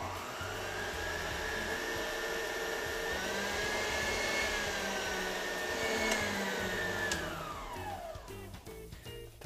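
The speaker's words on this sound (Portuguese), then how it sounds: "Eu vou levar essa mistura de clara e açúcar para a batedeira. A gente vai bater a clara e o açúcar até o ponto de pico leve." A stand mixer whips egg whites with sugar at high speed, a loud steady electric whine that holds for several seconds before the motor winds down near the end.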